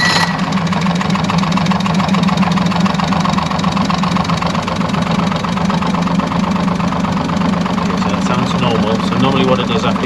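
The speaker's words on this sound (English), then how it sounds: "it idles a second or two, and then the fuel map kicks in, and there we go, and it starts to rev smoothly." An Evinrude E-TEC outboard motor runs at a steady, loud idle close by, a continuous low mechanical hum with a rapid ticking pulse throughout, while someone talks over it.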